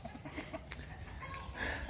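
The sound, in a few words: rooster and hens clucking on a farm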